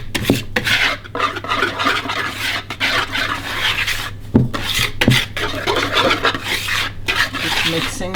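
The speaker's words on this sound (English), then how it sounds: "now whisk all that together as well" A whisk beats brownie batter of eggs, sugar, cocoa powder and self-raising flour in a bowl, giving close, rapid rhythmic scraping and tapping against the sides with a few sharper knocks.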